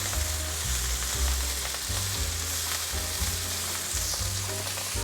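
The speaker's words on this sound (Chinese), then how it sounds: "快速翻炒" Diced red and yellow bell peppers stir-fried quickly in a hot pan for a vegan napa cabbage dish, a loud continuous sizzle with rhythmic scraping and tossing strokes, no voices.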